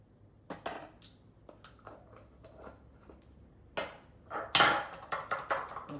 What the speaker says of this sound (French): Continuez à mélanger.